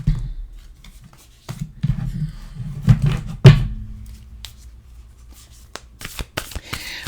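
A deck of oracle cards being shuffled, close and quiet, with several bursts of riffling and soft thumps of the cards against each other.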